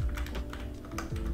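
Quick, continuous typing on a computer keyboard while building in Roblox Studio, close and brisk clicks with no talk over them.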